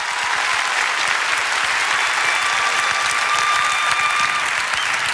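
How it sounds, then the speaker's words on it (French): Thunderous applause from a theater audience at a comedy gala as a child is called up on stage, a dense, steady wall of clapping that stays loud throughout. "Un tonnerre d'applaudissements pour Félix Antoine."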